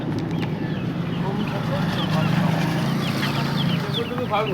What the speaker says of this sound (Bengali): এই হচ্ছে আপনার মুরগি